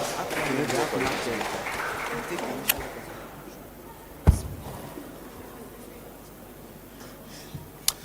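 A quiz-show audience at a Sigma Club live event applauds a contestant for a correct answer, a broad burst of clapping that fades out after a few seconds, leaving a quieter room with a few sharp knocks.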